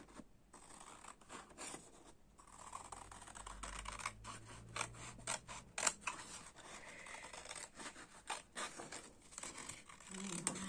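Scissors snip through fabric in short irregular cuts, faint and close, with light rustling between the snips.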